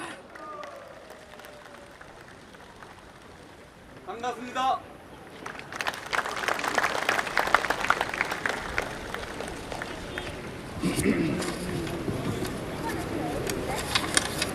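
Audience applause at an outdoor patriotic cultural festival marking the 73rd anniversary of the Korean War, breaking out as a speaker is welcomed. Broad, sustained crowd clapping swells after a short spoken greeting and continues under an amplified voice.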